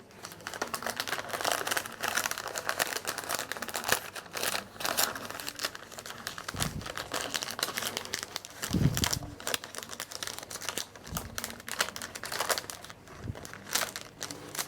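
Sheet of Mylar film crinkling continuously as it is handled and pulled through, dense close crackling and rustling with a few louder thumps and crumples.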